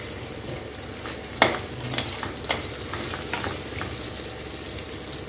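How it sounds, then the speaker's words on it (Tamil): Paneer cubes fry in oil in a pan, a soft continuous sizzle broken by a few stirring scrapes and light clinks, moderately quiet and steady. "பன்னீர் எல்லாம் பார்த்திங்கன்னா நல்லா பொரிஞ்சு வந்துருக்கு"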